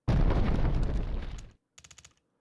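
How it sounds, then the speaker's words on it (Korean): Heavy gunfire and explosions roar in a dense, loud burst lasting over a second, then cut out abruptly. A short pause follows before a quick cluster of sharp, rapid shots. "공기를 찢는 총성과 폭발음"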